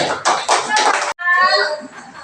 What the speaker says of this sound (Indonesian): tepuk tangan anak-anak untuk kelompok Naila.